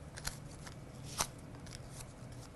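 A paper strip is dragged against a scraper tool to curl it for a lollipop Father's Day boutonniere craft, a faint dry rustle with one short sharper scrape, quiet and close, no speech.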